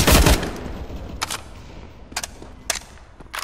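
Gunfire in Counter-Strike: Global Offensive: a loud opening burst of shots followed by a few sharp, separate single shots spaced over the next few seconds, with no talking.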